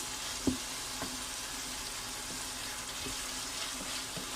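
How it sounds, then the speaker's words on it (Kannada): Chopped tomato frying in a pan for chicken keema, a soft, even hiss of sizzling oil with a few faint utensil taps, steady and fairly quiet throughout. "ಈಗ ನಾನು ಇದಕ್ಕೆ ಟೊಮೆಟೊ ಹಾಕೊಳ್ತಾ ಇದ್ದೀನಿ ಕಟ್ ಮಾಡಿ ಇಟ್ಕೊಂಡಿದ್ದು ಇದನ್ನು ಕೂಡ ಚೆನ್ನಾಗಿ ಫ್ರೈ ಮಾಡ್ಕೋಬೇಕು"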